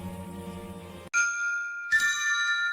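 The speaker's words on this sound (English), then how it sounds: "The payphone suddenly rings." A lone payphone at a sunlit roadside gas station rings out in bright, tinkling electronic bursts, two distinct rings following a stretch of low musical background, loud and close with no talk.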